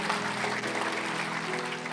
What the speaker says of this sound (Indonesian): Haleluya, kasih tepuk tangan untuk Tuhan.